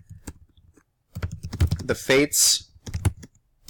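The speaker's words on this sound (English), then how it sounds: "typing skills at work" Rapid clicking keystrokes on a computer keyboard, close and fairly loud, in quick irregular bursts, interrupted partway through by a short spoken phrase.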